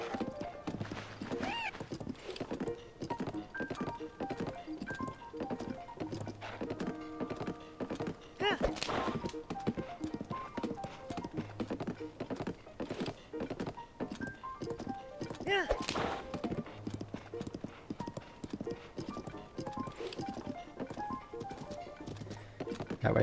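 Horse hooves clip-clop in a steady trotting rhythm in the video game Tears of the Kingdom, with an occasional whinny and thunk, heard under someone talking throughout.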